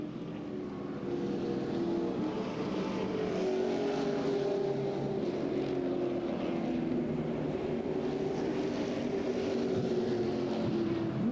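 A NASCAR Super Truck engine drones steadily at a distance, its pitch rising and falling as it laps Music City Motorplex in Nashville, with no talking.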